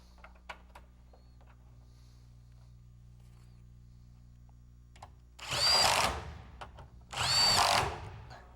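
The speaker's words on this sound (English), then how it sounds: "And then you're going to drill a few 1/4" holes for push pins around the perimeter." Two loud bursts of a power drill whine through a truck bed liner near the end, drilling 1/4-inch holes on a 2007-2013 GM truck, after quiet clicks and a low background hum.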